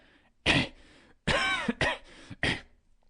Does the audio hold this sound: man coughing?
yes